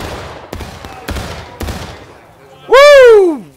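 Gunfire in a Civil War battle video game: several sharp musket shots crack at intervals, followed by a loud, rising-and-falling tonal sound, with no talk.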